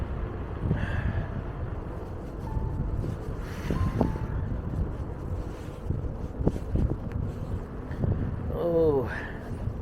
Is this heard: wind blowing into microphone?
yes